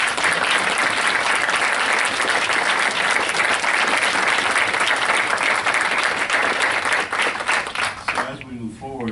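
Sustained applause from the audience at a Cobb County Commission meeting, loud and dense for about eight seconds and then thinning out as a voice starts speaking.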